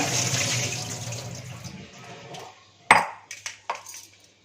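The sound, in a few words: water draining from sliced sweet potatoes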